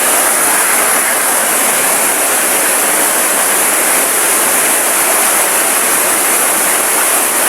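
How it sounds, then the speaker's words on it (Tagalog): Heavy rain pours down in a dense, unbroken hiss that stays loud and constant from start to finish, with no voices heard. "malakas ng ulan"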